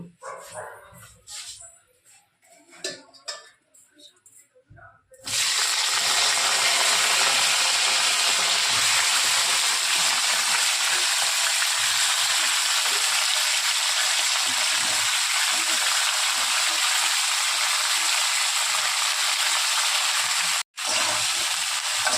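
Cauliflower frying in hot oil in a pan gives a loud, steady broadband sizzle that starts abruptly after a few seconds of quieter kitchen sounds and runs on without a break.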